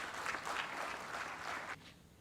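Audience applause at an SAE India AeroCON 2022 valedictory session welcoming the keynote speaker, a steady hall-wide clapping of moderate loudness that stops abruptly near the end.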